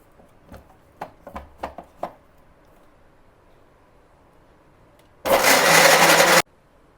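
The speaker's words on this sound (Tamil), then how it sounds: "இந்த 3 போட்டு இப்போ நம்ம மிக்சியில் அரைக்க போகிறோம்" An electric mixie grinds tomato, garlic and rock salt for rasam in one loud, steady burst of about a second near the end, after a few sharp knocks and taps from handling the jar.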